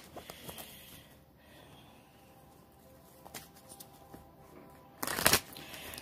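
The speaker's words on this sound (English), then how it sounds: "I'm going to shuffle the deck." Quiet riffling and flicking of playing cards, ending in a brief louder burst of a riffle shuffle.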